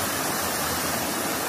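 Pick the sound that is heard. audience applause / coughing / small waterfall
small waterfall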